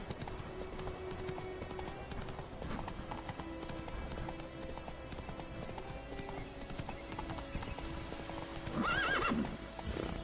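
Roach, a horse in The Witcher 3 video game, clip-clops with steady rhythmic hoofbeats throughout, then lets out a clear, loud whinny near the end.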